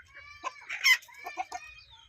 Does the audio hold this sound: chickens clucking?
yes